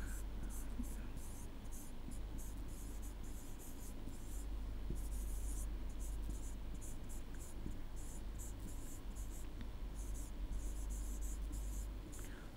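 Chalk or marker scratches across a board during an electrical circuits lecture, a faint, steady run of short strokes in quiet room noise with soft breaths or a murmur now and then.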